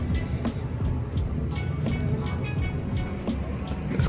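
Train sound effect playing at a train station diorama in an immersive art attraction in Utah, a steady rumbling rail noise with rhythmic clicking wheels over ambient room noise.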